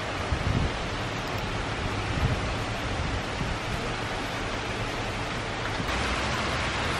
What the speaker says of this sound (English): The rain here is so wild. It stops and now it's pouring again.